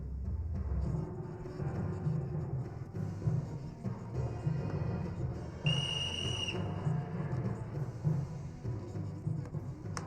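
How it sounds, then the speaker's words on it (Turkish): A sharp whistle tone sounds once for about a second, standing out over a steady background rumble and faint music. "Ulan Zülfü, senin düdüğünü bir elime geçirirsem"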